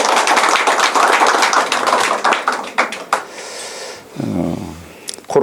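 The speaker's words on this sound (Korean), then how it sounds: "박수 한번 쳐주시죠" A hall audience at a Korean university disaster-safety debate applauds in a dense burst of clapping that thins out and fades after a few seconds, followed by a short voice and a few scattered claps.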